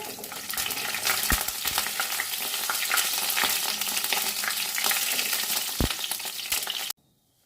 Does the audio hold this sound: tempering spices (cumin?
yes